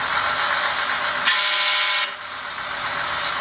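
An RC truck's sound module sounds a horn as one loud, bright blast of under a second, close by over the steady hum of the running engine effect.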